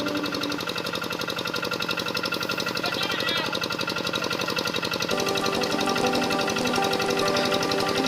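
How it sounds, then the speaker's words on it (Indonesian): A tractor plows a field, its engine running with a loud, continuous, rapid knocking chug that stays steady and close throughout, with no voices. "Saiki ne aku ndelok carane luku nganggo traktor."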